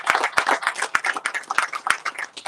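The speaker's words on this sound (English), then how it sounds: "let's give them a round of applause as well" Applause from a crowd at a groundbreaking ceremony for Weslaco Village Apartments in Weslaco, steady overlapping hand claps with a few sharper near claps across the stretch, with no talk.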